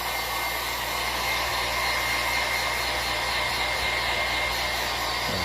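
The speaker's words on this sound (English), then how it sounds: "I'm gonna heat gun it." A heat gun blowing hot air onto a homemade model volcano, a loud, steady whirring roar with a low hum underneath, constant and close, with no one speaking.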